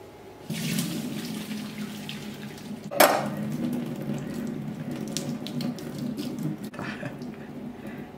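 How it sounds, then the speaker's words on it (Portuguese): Water runs and splashes as cooked lentils drain through a sieve in a kitchen sink, with a sharp clatter partway through and a faint voice in the background. "Já cozinhou a lentilha? Tá no ponto, eu vou escorrer agora."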